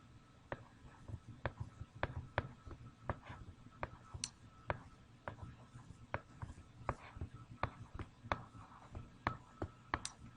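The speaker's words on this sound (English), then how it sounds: "I'm going to write my formula down." A pen or pencil writes out a statistics formula on paper, producing soft, close scratching strokes with frequent small taps and clicks in an irregular rhythm over quiet room tone.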